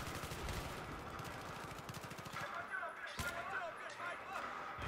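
Rapid bursts of Battlefield 3 gunfire rattle continuously, with a sharp explosion near the end, all under a constant wash of battle noise.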